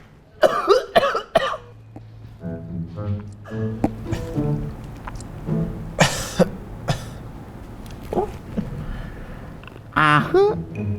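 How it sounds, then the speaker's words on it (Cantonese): Harsh, throaty coughs come in short bursts at the start, middle and end of a comedic exchange, with people talking between them. "你嘅咳咧係熱咳定係冷咳咧？"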